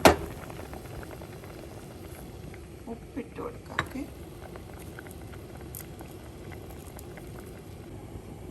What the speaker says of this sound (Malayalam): ഇത് തിളച്ച് വരുന്നുണ്ട് കേട്ടോ